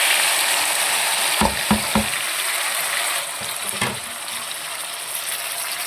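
Chopped onions and tomatoes hit hot oil already seasoned with cumin, mustard seeds, curry leaves and dried chili, giving a loud, steady sizzle with a few quick utensil clatters and no talk.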